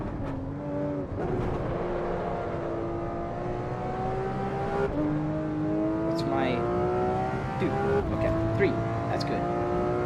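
Race car engine in a racing simulator on the Nordschleife, droning and revving steadily as the car climbs through gears and then drops pitch, with a person talking over it.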